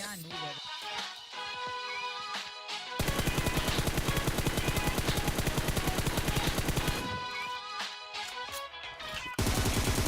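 Rapid automatic gunfire in PUBG Mobile fired from a prone position, in dense sustained bursts of fast shots, with quieter game sounds between the bursts.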